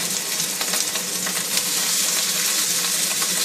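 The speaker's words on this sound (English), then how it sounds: "We'll put our pork chops in" Pork chops seasoned with salt, pepper and garlic powder searing in a hot pan, a loud continuous crackling sizzle that stays steady and close, with no voices.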